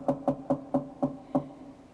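Six evenly spaced knocks rap on a door, sharp and moderately close, with a slightly longer pause before the last one and a quiet tail after.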